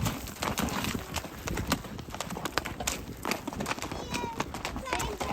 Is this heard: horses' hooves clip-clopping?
yes